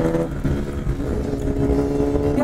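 A Kawasaki Ninja ZX10R fitted with a custom exhaust revs hard and close, a loud, continuous, throaty engine roar with a rough, rumbling tone that holds steady for the whole short stretch, no talking.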